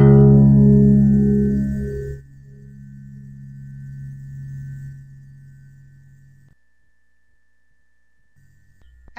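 A low string plucked on a six-string guitar rings out loudly at first, then decays into a softer sustained tone that fades to near silence.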